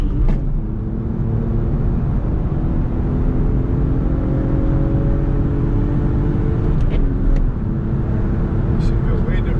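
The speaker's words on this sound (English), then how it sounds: "If I had an exhaust then it would sound really nice." A Lexus IS300 with a swapped 2JZ engine and a five-speed manual gearbox is driving, giving a steady, loud engine drone and road rumble from inside the cabin that holds at an even level throughout.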